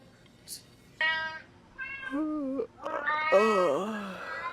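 A person imitates a cat with several drawn-out, wavering meows of rising and falling pitch, close and fairly loud.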